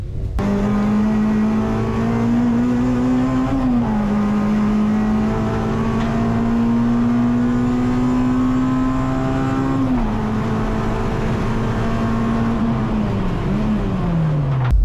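A steady high-pitched electric motor whine with small pitch shifts and rises from radio-controlled drift cars circling, running continuously, no voices.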